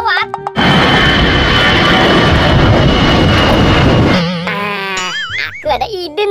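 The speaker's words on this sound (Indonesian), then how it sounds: "Wah, ada pesawat." An airplane flies overhead with a loud, steady engine roar lasting about four seconds, then gives way to animated voices.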